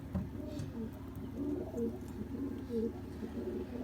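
Several pigeons coo in a loft with low, repeated throaty phrases that overlap in a steady murmur close by, the calls rising and falling throughout.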